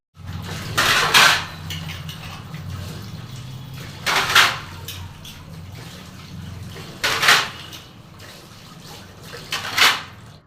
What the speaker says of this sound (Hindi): बस थोड़े से ही बर्तन हैं, तो इनका भी धो के रख दूँगी